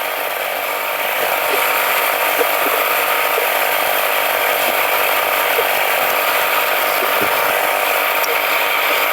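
Belt filing machine grinding a shoe sole during shoemaking: a loud, continuous abrasive whine and rasp runs throughout, close and steady, with faint irregular ticks beneath.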